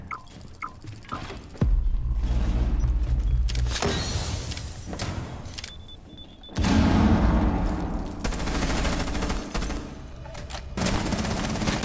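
Video game gunfire in a shooter match, with bursts of loud rapid fire and sustained rattling volleys that come close and heavy, then ease off and return across several seconds.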